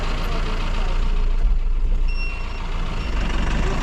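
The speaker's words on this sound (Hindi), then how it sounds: "बैक कर लूँ पहले गाड़ी, फिर बताता हूँ।" A truck reverses with a steady engine rumble while a faint high reversing beep repeats in the background, with no talk over it.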